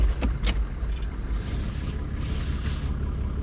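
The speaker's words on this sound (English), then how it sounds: "Good old engine, still got a lot of life in her" A vintage truck's engine idles and runs, a steady low rumble near and loud throughout, with a couple of sharp clanks early on and no voices.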